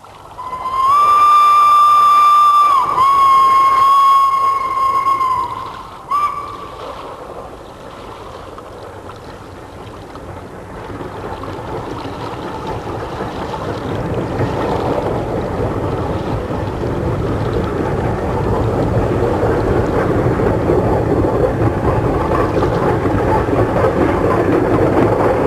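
A steam locomotive on the Great Central Railway sounds a loud, sustained whistle in two long blasts with a brief break between them, then chuffs and rumbles more faintly under wind as it moves off.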